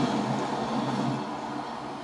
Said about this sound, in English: once that MBTA train goes by